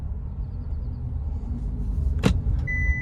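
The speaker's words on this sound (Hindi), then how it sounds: "सिर्फ मुझे राइट वाले पैड से ही एक्सीलेट करना है गाड़ी को।" An automatic car accelerating with no gear changes, its low engine rumble building steadily and up close, with a brief whoosh and a faint electronic tone near the end.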